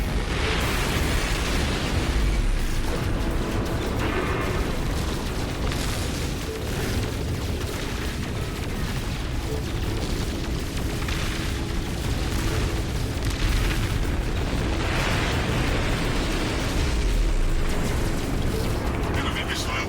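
Heavy booming missile blasts from enemy fire in No Man's Sky roll and surge without pause, loud and dense, over a low rumbling bed, with speech mixed in.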